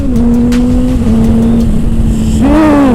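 A wrecked-and-rebuilt 2007 Honda CBR600RR track motorcycle revs hard as the rider shifts gears, engine pitch holding steady then dropping and climbing again in a sharp rising rev near the end, loud and close.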